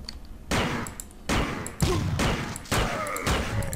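Gunfire and heavy impacts from the video game System Shock 2: four or five booming shots at steady intervals over a loud, dense game soundscape, with no one talking.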